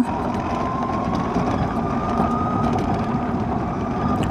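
Steady hum of a 2025 Ather Rizta electric scooter riding in eco mode, with continuous road and wind noise at an even level and no voices.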